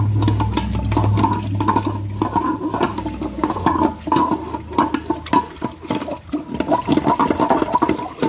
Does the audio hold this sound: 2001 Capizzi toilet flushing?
yes